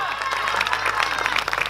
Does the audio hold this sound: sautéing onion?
no